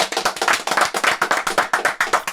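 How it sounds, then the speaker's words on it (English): A round of applause for NFL player Tristan Wirfs: brisk, steady hand clapping, close and fairly loud, with sharp individual claps in an even rhythm and no voices over it. "Let's give a round of applause for Tristan Wirfs."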